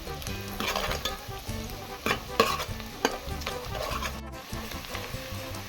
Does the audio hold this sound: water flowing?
no